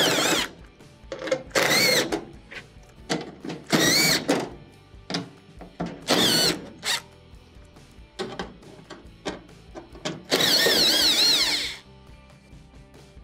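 Power drill backing 1/4-inch screws out of the rear plate of a GE dryer, several loud bursts of whirring with short pauses between them, the last burst longer and higher-pitched.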